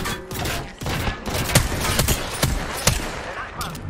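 Gunfire in Apex Legends, a dense run of sharp shots and bursts with irregular timing over background game noise.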